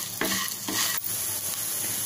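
Cumin, fennel and coriander seeds dry-roasting in a pan for vegetable kurma: a steady close sizzle with two louder bursts of stirring and scraping.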